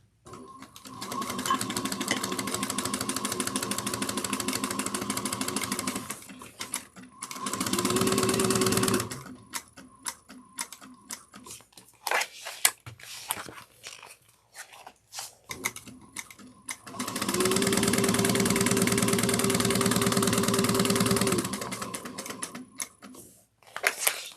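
A sewing machine stitches a 3/8 inch seam. Two long steady bursts of rapid mechanical whirring, with quieter ticking and handling in the pause between them, and no talk.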